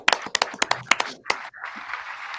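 A few people clap in a small room during a live premiere interview: about ten sharp, close handclaps in a quick uneven run, then the claps stop and soft room noise follows.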